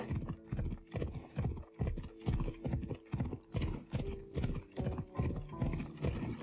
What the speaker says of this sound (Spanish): Que es un caballo mágico también.